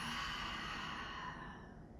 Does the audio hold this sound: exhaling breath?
yes